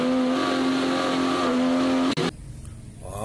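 A blue toy off-road car is pushed along, giving a steady, loud engine-like whirr with a sustained tone that cuts off sharply, followed by quieter rustling.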